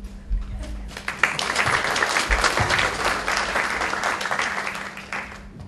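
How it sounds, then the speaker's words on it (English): Audience applause as a university president comes forward to introduce a speaker, a full crowd clapping steadily for several seconds with a low hum underneath. "Don't applaud me"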